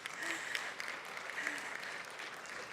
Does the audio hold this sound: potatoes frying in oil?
no